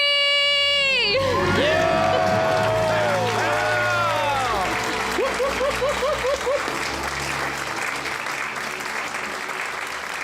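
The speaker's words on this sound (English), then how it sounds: "Let's hear a debt-free scream." A studio crowd lets loose with loud cheering, whoops and applause for a debt-free scream, with shouts rising over the clapping throughout.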